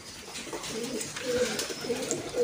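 Domestic breeding pigeons in a loft coo softly, a few low rolling calls overlapping one another at a modest distance against faint background hiss.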